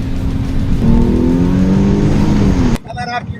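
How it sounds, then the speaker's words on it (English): A BMW 330 engine revs hard while merging onto a highway, its loud rising drone climbing steadily in pitch before cutting off abruptly into quieter cabin noise. "I just like to just put it to it and just listen to that motor"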